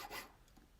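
A metal file rasps against the sides of a white gold ring, trimming it to width; one close, steady filing stroke, loudest at the start and fading to a softer scrape, with no voices.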